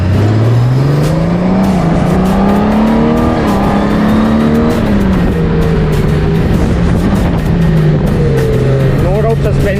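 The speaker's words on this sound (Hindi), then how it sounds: "तो स्पोर्ट मोड पे थोड़ा सा खींच के देखिए गोल्ड विंग का।" A 2022 Honda Gold Wing motorcycle accelerating hard in sport mode, its engine tone climbing steadily and loud, with strong wind rush and someone talking over it while riding.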